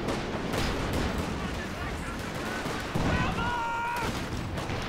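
Tank cannon shots hitting a Panzer IV in the video game Company of Heroes 2: a few booming impacts over a dense, low-level wash of battlefield noise, fairly faint overall.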